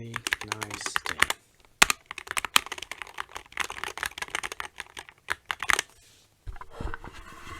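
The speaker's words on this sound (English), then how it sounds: "Well, I'm going to say it sounds very plasticky, I guess. Hollow." Rapid, irregular clatter of keys being typed up close on an Apex Pro TKL mechanical keyboard, plasticky and hollow, broken by a few brief pauses.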